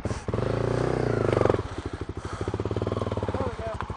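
A Honda CRF250L dirt bike rides through mud, a near engine revving and then chugging in a rapid pulsing beat at lower throttle, with a voice briefly heard over it.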